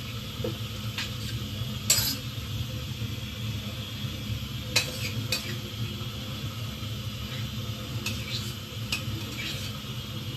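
A utensil scrapes stuck paneer off the bottom of a stir-fry pan with repeated rough strokes over a faint sizzle, broken by a few sharp metallic clinks.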